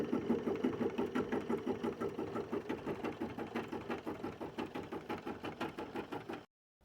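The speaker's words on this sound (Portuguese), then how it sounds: "Eu vou levar para a máquina e a máquina vai prender para mim." A machine-embroidery unit stitches fabric and foam in a fast, regular mechanical rhythm of needle strokes, close and continuous, then stops abruptly near the end.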